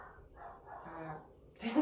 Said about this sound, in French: le petit pitou s'est mis à japper